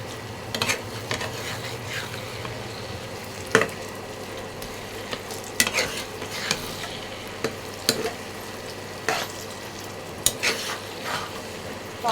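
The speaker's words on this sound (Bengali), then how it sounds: "এখন হলুদের গুঁড়া মরিচের গুঁড়া নাড়া দিয়ে টমেটোগুলো দিয়ে দিব" Spices and tomatoes fry in a pan under a continuous close sizzle, with repeated scraping and clattering strokes of a spatula stirring them every second or so and no speech.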